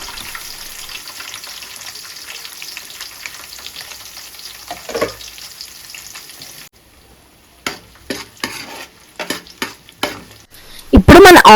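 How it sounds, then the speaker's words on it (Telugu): Onions sizzling in a pan as they brown, a steady crackle that stops abruptly partway through, followed by scattered stirring clatters and a loud clank at the end, close by with no talking. "ఆనియన్స్ వేసుకొని కొంచెం బ్రౌన్ ఆనియన్స్ లా"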